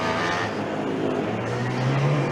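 Milan team Formula Student combustion race car on the FSG18 endurance course, engine droning steadily and rising in pitch toward the end as it accelerates, heard alone and fairly close.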